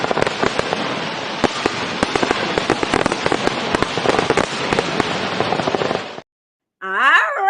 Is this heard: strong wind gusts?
no